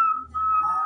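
An African grey parrot whistles a short, clear tonal note that dips briefly and then holds steady, close and fairly loud, with no talk over it.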